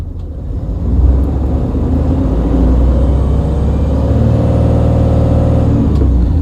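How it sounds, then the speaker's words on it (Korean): A Tata Daewoo Prima heavy cargo truck with 466,206 km on it revs up from idle, a loud, deep diesel rumble that swells within the first second and then holds steady at higher revs. "네 아이들링 한번 올라가는 모습 보여드릴게요"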